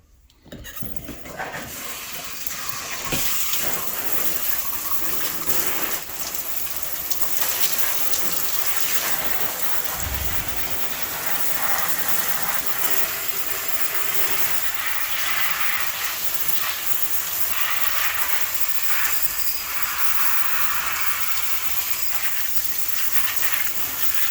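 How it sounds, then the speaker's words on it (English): Water spraying off a Redcat Rampage MT RC truck as grease is rinsed away, a steady loud broadband hiss and gush running almost without break from start to finish, close to the source and alone. "Let's spray it off, see what happens."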